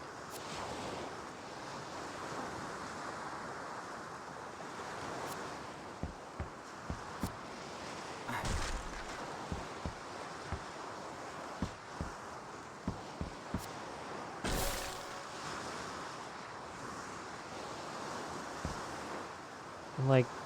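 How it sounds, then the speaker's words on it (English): Ocean waves washing on a shore in the 2004 Xbox game Sudeki, a steady broad wash of surf with wind-like hiss and scattered light clicks over it. "And like pretty good water effects too. 2004. Yeah, waves and everything."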